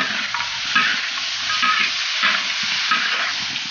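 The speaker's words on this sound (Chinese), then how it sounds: "老抽， 给它翻均匀，" Steady, close sizzle of chicken pieces stir-fried in a wok with dark soy sauce, a spatula scraping and turning them in regular strokes over constant frying hiss, no voices.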